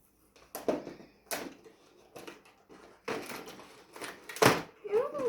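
Crinkly tearing and scraping of a taped package of dragée chocolates in short bursts, close up, with brief pauses between pulls.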